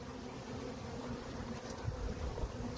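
A honey bee swarm buzzes steadily beside a backyard hive near an apple tree in Oklahoma, a dense continuous hum close by with no voices over it.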